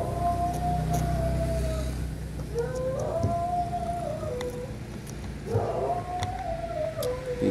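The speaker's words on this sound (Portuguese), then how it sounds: "cachorro aí latindo aí" A dog howls and yelps in drawn-out, wavering cries near a parked Chery car, in several bursts with short pauses between them.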